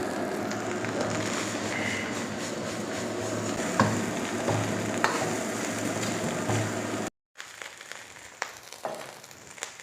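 Fried rice with masala being mixed in a pan over a high flame, a continuous sizzle with spatula scrapes that cuts out briefly before softer stirring clatter resumes.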